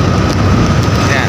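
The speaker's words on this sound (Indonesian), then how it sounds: "Hujan gede banget iki." Heavy rain pours at the Mrican reservoir as a dense, loud, unbroken hiss of falling water, close and steady for its whole short span.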